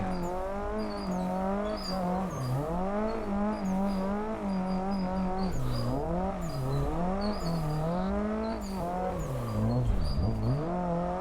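A car is driven hard through a drift after an upshift into third gear, its engine note rising and falling in loud, continuous sweeping revs with faint tire noise underneath.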